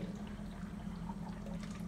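Used fryer oil pours out of a commercial deep fryer into a bucket, a steady, fairly quiet stream of liquid with no voices.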